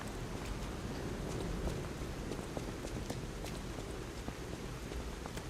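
Steady rain in the game Lies of P, a dense, constant patter of drops with scattered sharper taps, moderately quiet and continuous throughout with no voices.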